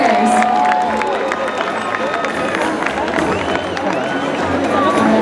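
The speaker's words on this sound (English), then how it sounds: "everyone give us a big round of applause for our brave volunteers" Spectators at the SeaWorld San Diego orca show cheer and applaud volunteers, a loud, continuous crowd roar with clapping, whistles and scattered shouts, close and filling the whole stretch.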